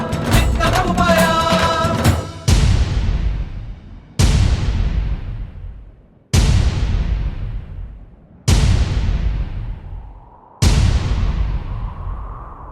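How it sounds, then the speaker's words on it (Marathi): Five heavy cannon-fire booms from a sound effect in a Marathi powada about the Pavan Khind battle, following a burst of music; each loud blast rings out and decays slowly before the next, spaced about two seconds apart. "धूम धडड धड ऐसा ध्वनी तोफांचा शिवरायाचा"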